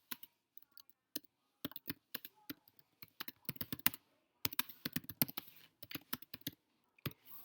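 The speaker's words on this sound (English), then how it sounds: "Here, just as in Word, I can type directly onto the page." Fingers type on a computer keyboard in quick irregular runs of crisp clicks with brief pauses, close and clear, with no voices.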